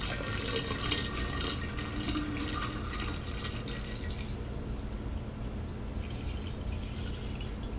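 Honey being poured into a container while making mead, heard as a steady liquid stream with soft drips and splashing, close up and continuous, with no talking.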